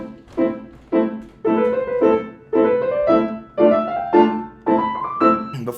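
Piano playing the opening lines of Burgmüller's Arabesque, a quick series of sharp staccato chords and rising phrases, close and clear with distinct rhythmic attacks and no talking.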